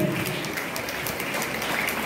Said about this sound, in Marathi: जोरदार टाळ्या झाल्या पाहिजे त्या ब्लॅक बेल्ट मुलांसाठी